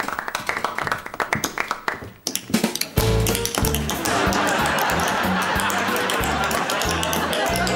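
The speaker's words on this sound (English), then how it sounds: "Oh, I thought you said tap dancing." Tap dancing on a stage in a comedy sketch, a burst of quick rhythmic shoe taps that builds into a steady, loud clatter of heel and toe strikes with no talking over it.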